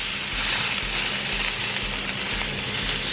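Steak sears in hot oil in a pan, a loud, steady, close crackling sizzle and hiss that holds without pause.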